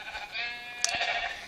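A single sheep in a sheep-mod video game lets out a clear, wavering bleat lasting over a second, close and alone, with a soft click partway through.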